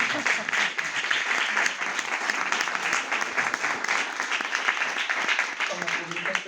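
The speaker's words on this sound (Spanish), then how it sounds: "si podemos darle un fuerte aplauso a Rita" A packed audience applauds the writer Rita at a book presentation, with steady, dense clapping that holds throughout and a few voices faintly mixed in.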